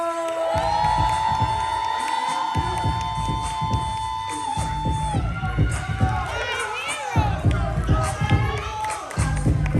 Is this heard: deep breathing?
no